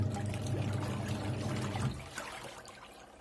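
Inside a washing machine, water sloshes and trickles around clothes over a low, steady churning rumble that eases off toward the end. No talking.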